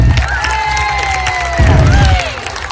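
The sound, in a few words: children cheering and applauding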